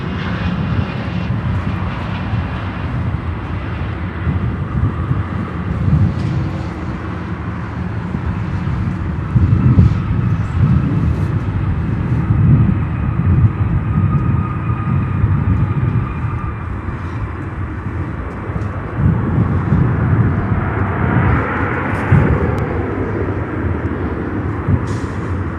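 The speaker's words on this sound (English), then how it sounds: "we have another Contour Embraer 135 landing on" A Contour Embraer 135 landing on runway 10 Center at O'Hare airport, its jet engines giving a loud, steady roar with wind rumble that continues for the whole stretch and swells slightly near the middle and end.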